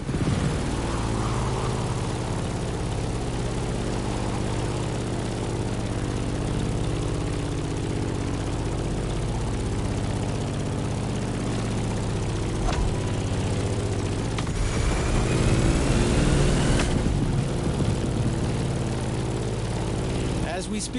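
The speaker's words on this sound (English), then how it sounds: "In the cockpit of a stunning Grumman F-8F Bearcat, or simply the Bear." Grumman F8F Bearcat propeller fighter in The Crew Motorfest flying steadily, a loud, continuous droning engine and propeller hum with slight swells, a narrator talking over it throughout.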